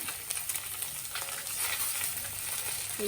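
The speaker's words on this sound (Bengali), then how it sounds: "মাছ ভাজা" Fish fries in a pan at night, giving a continuous soft sizzle and bubbling hiss at moderate level, with faint background clatter and no talk.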